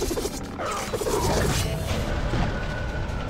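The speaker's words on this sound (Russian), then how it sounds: "Он взорвался, ребята." Blast from the video game Tower Conquest, a dense, continuous rumbling roar with crackling debris that fills the whole stretch at steady loudness.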